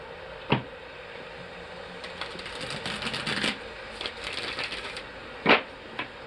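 Tarot cards being shuffled by hand, a few sharp taps and bursts of riffling and sliding card noise, close and moderately quiet, with no talking.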